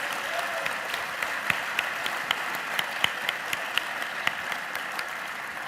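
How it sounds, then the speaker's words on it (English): An audience at the D.I.C.E. Awards gaming ceremony applauds steadily, with a dense wash of clapping and a few sharper individual claps standing out over several seconds. "how about one more round of applause for everybody who just won and the nominees?"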